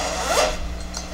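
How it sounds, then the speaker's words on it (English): A heavy zipper on a Maratac tactical gear bag is pulled in one quick, close rasping stroke lasting about a second, with no talk over it. "Good heavy zipper here, with again another lanyard on it."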